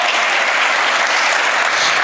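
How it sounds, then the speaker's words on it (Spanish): Congregation in a church breaking into loud, steady applause, a dense wash of clapping hands that holds evenly with no voices on top. "Dale un fuerte aplauso al Señor."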